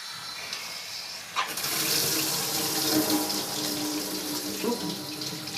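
Water gushes steadily from the tap of a newly unboxed kitchen water heater after a click, a close, continuous hissing stream that keeps running on its own.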